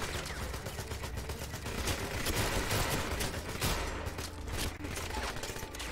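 Dense shotgun fire in the 007 Legends video game: a continuous barrage of overlapping blasts and sharp reports for six seconds, fairly quiet overall, with no clear speech on top.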